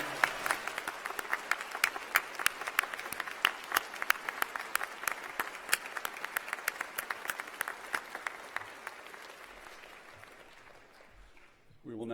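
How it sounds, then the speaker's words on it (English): A convocation audience at the University of New Brunswick applauds the newest graduates, steady clapping of many hands with crisp individual claps, slowly thinning and fading toward the end. "Could we have a round of applause for all the newest alumni?"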